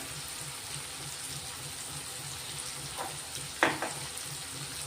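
Tomato and chili flakes fry quietly in a pan with a soft, even sizzle, and a short clatter of stirring or utensil contact breaks in near the end.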